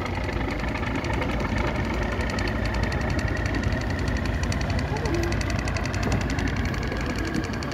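A motorboat ferry engine on a cheap river crossing drones loud and close, a constant knocking idle-like rumble, while people talk over it throughout.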